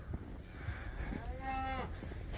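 A cow on a cattle farm gives a single drawn-out moo with a rising, wavering tone, moderately close, over a low background of wind rumble.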